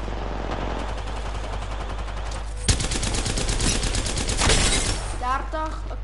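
Rapid gunfire bursts in the Apex Legends shooter, dense repeating shots over a constant low game rumble, with a sharp loud volley midway and more fire afterward.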